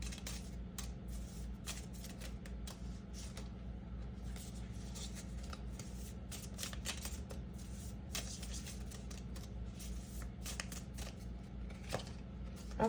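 Tarot cards are shuffled close up in a long run of crisp, rapid riffling and slapping bursts, over a low steady room hum.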